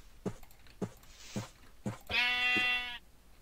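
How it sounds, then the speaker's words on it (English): Sheep in the Minecraft video game: a few short clicking footstep-like taps, then one clear, loud, wavering bleat lasting about a second, close by with no talk. "Okay, more sheep."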